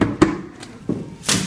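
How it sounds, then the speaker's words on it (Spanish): Homemade drum made from a plastic flowerpot covered with a black bag and sewn twine, struck a few times with dull, hollow thumps spaced irregularly, close and without talk. "este es un tambor elaborado con una maceta de plástico, una bolsa negra y mecate que se fue cociendo y suena más o menos así"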